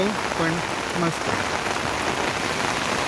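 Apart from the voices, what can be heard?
monsoon rain on 4 July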